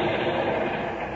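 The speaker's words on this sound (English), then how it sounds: "on a train returning to New York" A train runs steadily on rails as a radio drama sound effect, a dense continuous rumble with faint rhythmic clatter, loud and close, heard alone with no voices.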